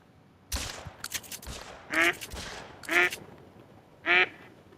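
Ducks quack three times in the hunting video game theHunter: Call of the Wild at the Salzwiesen Park wetland, loud bursts spaced about a second apart, following a few sharp crack-like shots.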